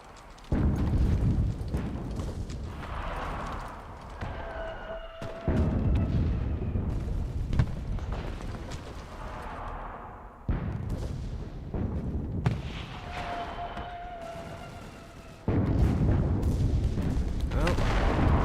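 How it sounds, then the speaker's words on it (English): An artillery barrage in the World War II shooter Enlisted: repeated heavy booms and rumbling blasts roll in waves, several close and loud, with radio-style voices talking between the impacts. "Artillery on target."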